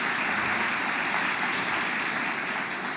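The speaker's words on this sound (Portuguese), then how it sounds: "uma salva de palmas para essa equipe maravilhosa que está fazendo arte aqui no Rio." A seated audience at a talk on creative leadership in Rio gives a sustained round of applause, dense and even throughout, filling the room with no voices above it.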